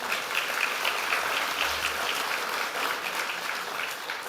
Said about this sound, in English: Yes, well-deserved applause.